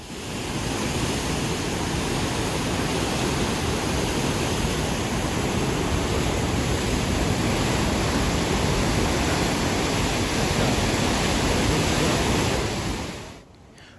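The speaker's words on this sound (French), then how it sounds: "Ce bruit d'eau." Steady, loud rush of water roaring continuously like a torrent or spillway at the Mekin hydroelectric plant in Cameroon, broadband and unbroken, cutting off abruptly near the end.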